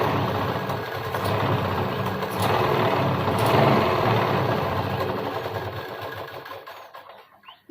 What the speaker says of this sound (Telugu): ఇక్కడ ఒక కుట్టు అనేది వేసేసుకోవాలి